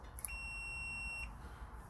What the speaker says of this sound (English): That beep means we have continuity.